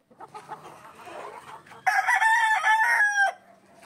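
Young roosters (stags) crow at a hatching yard, one loud strained cock-a-doodle-doo rising clearly after a stretch of softer clucking and fowl chatter nearby.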